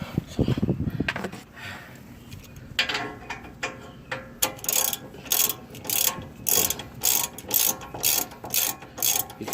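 Ratchet wrench loosening a long brake caliper bolt on a 2003 Lexus GX470, heard as a steady run of close, sharp clicking strokes after some initial handling noise, with no talking.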